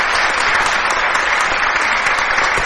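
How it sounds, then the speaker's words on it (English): An audience at a live charity demonstration claps loudly and continuously, a dense, close wash of applause lasting a few seconds. "And a huge round of applause, please,"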